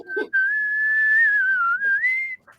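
A person whistles the opening melody of a song in one clear, close, sustained phrase, briefly bracketed by faint murmurs.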